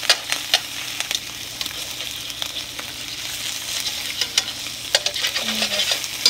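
Bone-in chicken thighs sizzling in a hot pan as the fat renders, a continuous crackling fry with scattered pops and spatters and occasional stirring, close and moderately loud with no talk.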